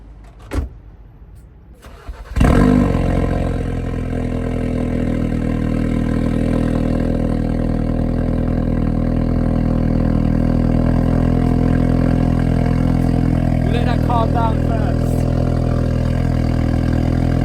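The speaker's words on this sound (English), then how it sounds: "Let's start it, hear the cold start" A Ford Focus RS cold starts with a sharp crank and loud flare of revs, then settles into a steady, rumbling idle that holds close and loud for the rest of the clip, a faint whine and clicks appearing midway.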